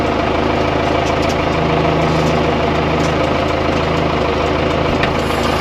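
A tractor engine idles steadily with a sprayer pump running, a constant low rumble and drone that stays even and loud throughout, close by with no voices.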